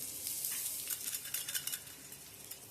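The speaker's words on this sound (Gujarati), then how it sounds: "રાઈ, મીઠો લીમડો ને હિંગ આપણે આની માથે રેડી દઈશું." Hot tempering of mustard seeds, curry leaves and asafoetida poured over steamed cornmeal dhokla, giving a steady bright sizzle and crackle throughout, close and moderately quiet, with no talk.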